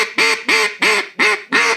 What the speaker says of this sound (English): That sounds like a duck.